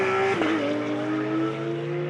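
A GT race car spinning at Spa-Francorchamps, engine note dropping sharply as the car loses grip, with tire scrub and a sustained engine tone afterward, loud and close.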